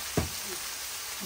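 Chicken frying in a pan, giving a steady, even sizzle throughout with one brief knock of a utensil near the start, close and without talk.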